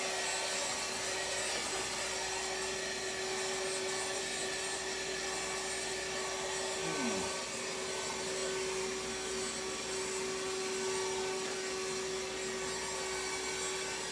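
A Goodmans cordless wet and dry handheld vacuum cleaner hums steadily at close range with a constant whine, running alone throughout with no voices.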